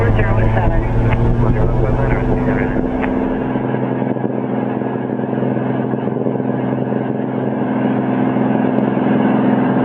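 A Columbia 400 airplane engine roars loud and steady during the takeoff roll, a dense droning hum with shifting pitch as power builds, continuous throughout with talk faintly over it.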